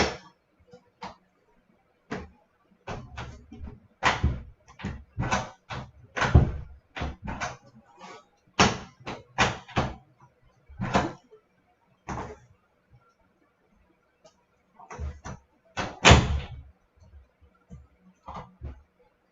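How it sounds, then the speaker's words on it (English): An indoor door keeps popping open by itself, giving a long series of loud, close, irregular knocks, thumps and bangs, some in quick clusters and some separated by short pauses. "I have a ghost door that just keeps popping open."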